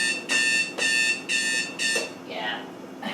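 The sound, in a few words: kitchen alarm beeping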